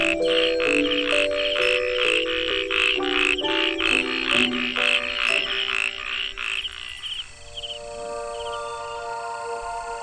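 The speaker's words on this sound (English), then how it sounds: "Resident frogs keep the summer season hopping with their whimsically husky croaks." Resident frogs in the grassy summer marshes of Kenting, Taiwan, croaking huskily in a steady, rhythmic chorus of repeated calls, fairly close and loud, thinning out toward the end with no voices.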